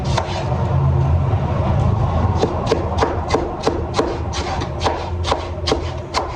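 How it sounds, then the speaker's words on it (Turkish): Tomatoes being chopped with a knife on a board, a run of crisp, regular close-up knife strikes speeding into a brisk rhythm over soft kitchen rustle, no talking. "Domatesimizi de doğruyoruz yine."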